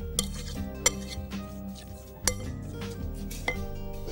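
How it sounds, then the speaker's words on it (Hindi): Lemon, brown sugar, cinnamon and butter mixed together in a bowl, with a spoon clinking and scraping against the dish in several sharp taps over a steady stirring rumble, close and moderately loud, with no talking. "इन तमाम अज्जा को करते हैं बहुत अच्छी तरीके से मिक्स।"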